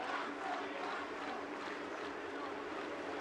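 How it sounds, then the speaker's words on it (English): A large roadside crowd cheers at the 2006 Giro d'Italia podium, a dense, continuous roar of voices and applause held at an even level throughout, heard from some distance. "Listen to the crowd."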